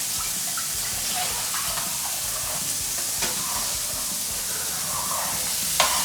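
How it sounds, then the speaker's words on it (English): Milk, about a cup and a half, hitting melted butter in a saucepan while making macaroni and cheese, giving a steady broad sizzle and hiss that holds evenly throughout, with a faint clink near the end. "So we're putting here about a cup and a half of milk"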